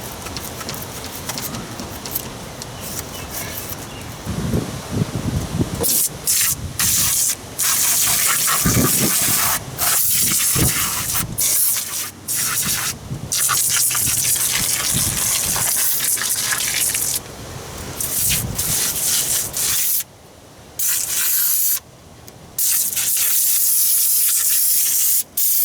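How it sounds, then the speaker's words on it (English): A pressure washer blasting a degreased car engine in place, a loud continuous hissing spray that cuts off and restarts in bursts, with no talk. "then we'll go ahead and pressure wash it."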